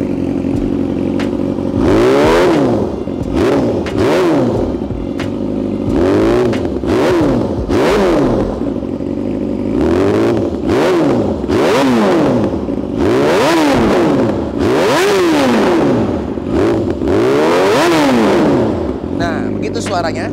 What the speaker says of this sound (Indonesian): Nah sekarang coba gue gerung dikit.